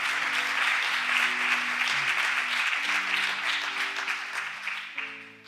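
Sustained applause from a church congregation fills the room, a dense steady clatter of many hands with faint musical tones underneath, tapering off near the end.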